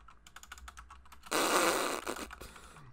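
Rapid clicking keystrokes on a computer keyboard, a burst of quick taps interrupted by a louder broadband noise, with no talking.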